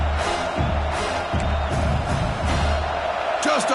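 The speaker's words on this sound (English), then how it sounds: "this home crowd is fired up and ready to make a difference today" Home crowd at a college football game, LSU versus Washington, roaring in a steady broad wash of cheering with scattered whoops, loud and continuous across the whole stretch, with a commentator's voice running over it.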